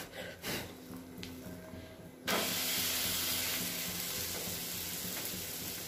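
Masala rice flour roti sizzling in oil on a hot tawa: quiet handling noises, then a sudden steady hiss and crackle of frying that holds on evenly to the end.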